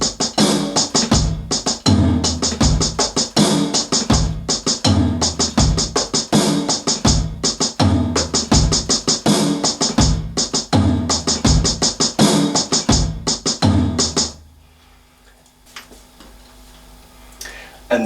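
Drum kit playing a beat at a slow tempo, with bass drum, snare and floor tom in a steady repeating pattern of loud hits. It continues for most of the clip, then stops into near silence.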